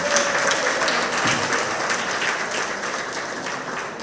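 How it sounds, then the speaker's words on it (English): Steady applause from a crowd, dense clapping that holds at an even level for a few seconds without a break. "So we need a round of applause for that."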